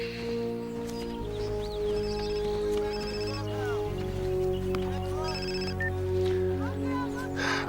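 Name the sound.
telephone ringing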